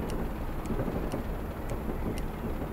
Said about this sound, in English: As you can tell by the rain.